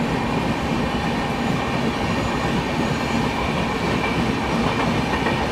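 The Bhubaneswar Tejas Rajdhani train overtakes close by, a loud, steady rumble of passing coaches with rail clatter and faint wheel squeal, continuous for the whole stretch with no talk.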